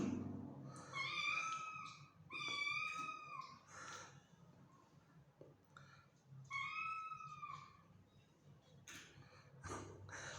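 Kittens mewing in short, high-pitched bursts, several cries in a row with pauses between, fairly close and clear against quiet background noise.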